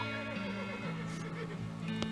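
A horse whinnies in the video game West of Loathing, a steady electronic neigh heard over continuous game music, with faint clopping and no voices.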